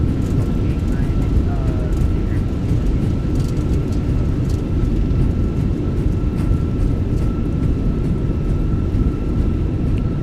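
Roaring broadband rumble of a Fenix A320 airliner in the MSFS2024 flight simulator during landing rollout with thrust reversers deployed, steady and loud throughout with a faint tone above and a voice talking over it.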